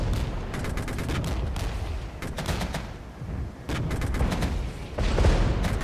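Artillery fire in the wartime strategy game Regiments: continuous rumbling explosions and rapid gunfire crackle, with dense repeated sharp bursts over a heavy low roar, loud and sustained throughout.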